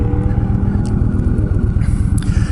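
A 2007 Yamaha V-Star 1300 cruiser motorcycle engine rumbles at a low, steady idle with a deep, throbbing exhaust pulse, close and fairly loud.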